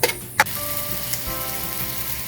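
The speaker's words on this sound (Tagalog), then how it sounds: "So after about 2 minutes of cooking your onion and garlic, then you add the ginger." Onion and garlic sizzle steadily in a pan while Paklay is being cooked, giving a continuous close crackle, with a couple of sharp knocks from utensils at the start.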